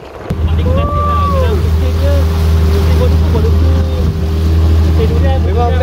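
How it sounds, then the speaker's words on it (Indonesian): A motorboat cruises along the Johor River near the Sungai Johor barrage, its engine droning loudly and steadily with water and wind noise, while people chat aboard over the motor. "Semasa kita boat riding ni"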